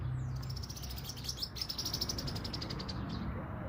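Birds chirp in quick, bright bursts against a soft outdoor background, fairly close and continuous, with no talking.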